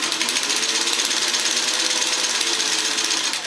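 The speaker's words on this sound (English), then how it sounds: "I'm working on just a little piece of denim, and it's set for the widest stitch" Singer 15-91 sewing machine running on a small piece of denim at its widest basting stitch, a loud, steady, close-up whir with rapid, even ticking throughout.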